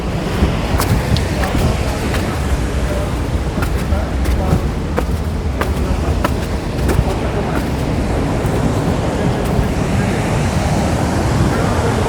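Bogatha Waterfalls in Mulugu, Telangana, roars as a loud, continuous broadband rush of falling water, steady throughout with no pauses, heard from a nearby viewpoint.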